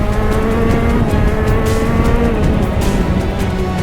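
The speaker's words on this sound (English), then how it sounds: "I need to keep the kart in its rev range, otherwise it falls down like that." A racing kart engine at Daytona holds a loud, steady, buzzing drone close to the microphone, with a continuous high rev tone and no talk.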